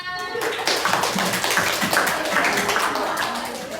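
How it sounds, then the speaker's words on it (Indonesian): A classroom group claps together after a discussion activity, a brisk, close patter of many hands that starts after a brief voice and carries on steadily to the end. "tepuk tangan untuk kita semua"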